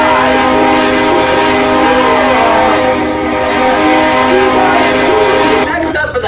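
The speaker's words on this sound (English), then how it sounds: "Sounds like a choo-choo train. Like a diesel locomotive." A diesel locomotive horn from a PS5 baseball video game blares loud and sustained, a steady chord-like honk holding for several seconds before cutting off near the end.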